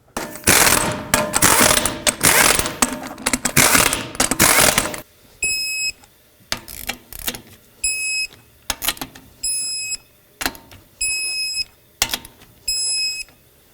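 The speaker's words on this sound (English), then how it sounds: "Start on all 5 of your lug nuts, snug them up, and then torque them to 100 foot-pounds." A ratchet works on wheel lug nuts during a 2007-2009 Saturn Aura repair, heard as a short run of quick clicking bursts after a noisy opening, each burst separated by brief pauses.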